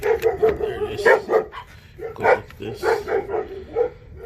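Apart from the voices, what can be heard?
dogs barking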